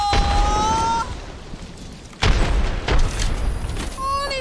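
A grenade blast in the shooter game Apex Legends, a deep booming explosion midway with rumbling aftershocks, heard under excited player talk and game sound effects.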